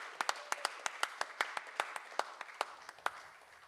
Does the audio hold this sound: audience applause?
yes